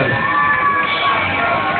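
Crowd at a karaoke night in a Polish club cheering and whooping, a dense, steady wall of shouts and voices close by, with no clear break.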